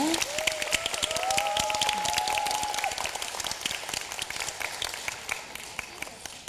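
Warm applause from the audience at a high school team final of a national reading debate and essay contest, moderately loud clapping sustained throughout, with a faint tonal sound sliding through the first few seconds.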